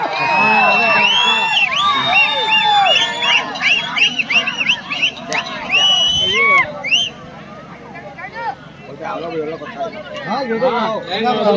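A large crowd shouts, whoops and cheers loudly, with whistles and excited voices rising and falling over a steady roar of babble.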